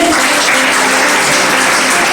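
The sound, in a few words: audience applause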